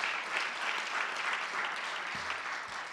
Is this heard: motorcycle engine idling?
no